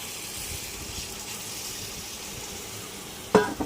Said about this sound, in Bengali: আমি এর মধ্যে অল্প করে জল দিয়ে দিচ্ছি